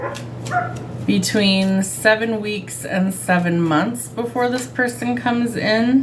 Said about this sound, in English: Sorry if you can hear my dogs barking, they're out in the backyard.